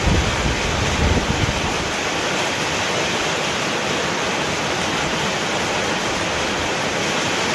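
A downpour of heavy rain roars in a continuous broadband wash, loud and near, with a slightly heavier burst near the start and otherwise even, no talk over it.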